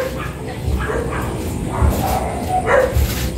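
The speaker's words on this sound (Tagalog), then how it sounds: "O tinahulan na kayo ng aso." A dog barks a few times at a distance, muffled under steady background noise outdoors, with yips spread across the stretch.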